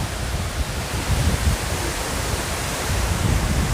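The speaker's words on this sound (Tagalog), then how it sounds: "sa man-made falls sa tuktok ng bundok" A large man-made waterfall on a mountaintop at Khorfakan, Sharjah, heard as a dense, steady roar of falling water, loud and close throughout.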